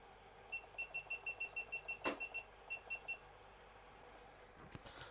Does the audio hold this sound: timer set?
yes